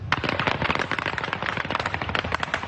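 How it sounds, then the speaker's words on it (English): Rapid gunfire erupting at Culiacan airport, dense crackling volleys of shots overlapping continuously, loud and sharp with no pauses. "Gunfire erupting at this airport in Culiacan on Thursday."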